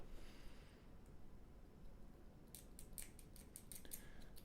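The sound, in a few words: trimming model kit parts with scissors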